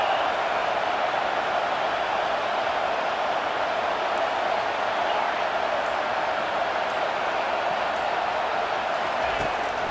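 Steady roar of a stadium crowd in a college football video game, Kansas against Oklahoma State, rising to unsettle the offense on third and long, a dense continuous wash with game commentary over it.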